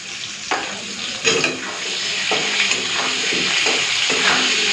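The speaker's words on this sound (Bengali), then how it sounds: "এইভাবেই একটুখানি নাড়াচাড়া করে লাল করে আলুগুলোকে ভেজে নেব" Boiled potatoes fry with salt and turmeric in a pan, sizzling continuously while a spatula stirs and scrapes in repeated strokes about once a second, close-up and without talk.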